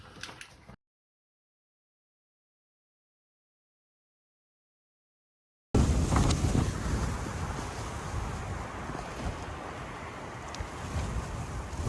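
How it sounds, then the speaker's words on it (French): Strong wind roars across the microphone at a wilderness hut in Finland, a steady broadband rush, loud and continuous, after a brief gap of silence near the start. "il y a du vent au taquet"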